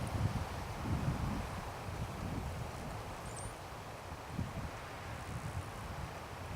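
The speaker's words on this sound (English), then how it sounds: "Wind's blowing pretty good. Hope it's not messing up the microphone on the camera." Wind blowing outdoors, heard as low, gusty rumbling buffets against a microphone over a faint background hiss, steady and fairly quiet, with no voices.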